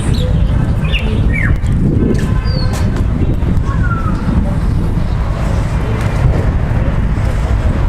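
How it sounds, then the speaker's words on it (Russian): Small birds chirp and tweet in scattered bursts beside a church in the old town of Hurghada, over a constant wash of nearby road traffic. "Вот эти птички."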